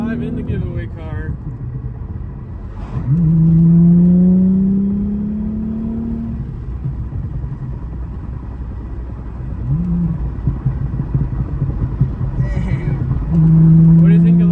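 A B5 Audi S4 drives and accelerates, its engine note rising in pitch through several throttle pulls with brief lulls between, heard from inside the car at fairly close range, with people talking at times.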